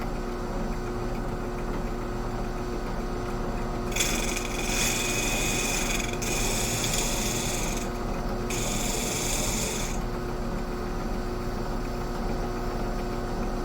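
A chisel is pressed against a spinning grinding wheel for a first-time sharpening: a steady motor hum runs throughout, broken by three loud, hissing grinding bursts of a couple of seconds each as the steel touches the wheel.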